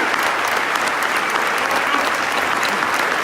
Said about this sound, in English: let's give a round of applause to all the families as well.